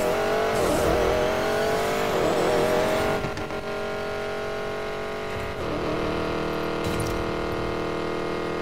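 Car engine revving hard in the racing game Need For Speed Payback, a starter Duralec build, a loud continuous roar that shifts pitch as it accelerates and changes gear, with no talk.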